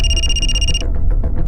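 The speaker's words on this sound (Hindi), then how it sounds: "सर किसी अप्पा का फोन है" A telephone rings loudly nearby, one sustained electronic burst that stops partway through, followed by faint background clatter.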